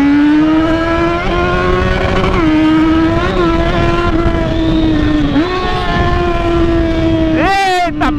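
Yamaha XJ6 motorcycle with its original exhaust, the engine revving loud and close in a sustained rising and falling drone with several shifts, ending in a sharp burst of high revs.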